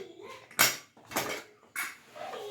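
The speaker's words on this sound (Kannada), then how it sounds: "cooker open ಮಾಡ್ತಿದ್ದಾರಮ್ಮ" A pressure cooker holding soya biryani is opened after its steam is released, giving three brief, faint metallic clanks and scrapes of the lid.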